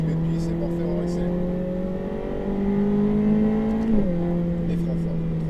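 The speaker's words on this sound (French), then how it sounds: "Voilà, milieu de piste, c'est parfait, on accélère." Ferrari F8 Tributo engine pulling hard on a race circuit, heard from inside the car as a steady rising drone with a brief dip at a gear change, while an instructor talks over it.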